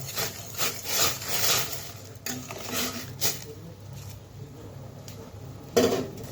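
Semolina being stirred with cumin seeds in a pan: a steady dry scraping and rubbing of a spoon against the pan, continuous and fairly close, with a few louder knocks and no voices.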